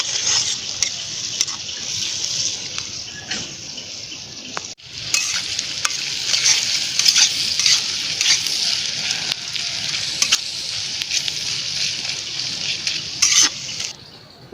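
Fish coated in masala spices and turmeric sizzles steadily in a pan, a bright continuous hiss with scattered stirring clicks, a brief drop near the five-second mark, then loud frying resumes.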